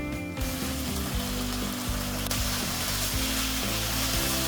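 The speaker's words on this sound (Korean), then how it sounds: "끝으로 올리고당 조금과 올리브오일 조금, 물 1큰술을 넣어 잘 익혀줍니다." Cabbage, onion, broccoli and paprika stir-frying in a frying pan with a little olive oil, oligosaccharide syrup and a spoonful of water: a steady, loud, close sizzle with scattered soft knocks of stirring, continuous throughout and no voices.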